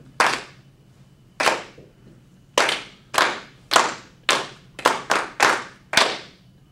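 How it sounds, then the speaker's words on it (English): Half of a school class claps a rhythmic pattern together, about ten sharp, loud, unison claps in an uneven beat with short gaps between them. "I want this half of the class to clap number 2 together."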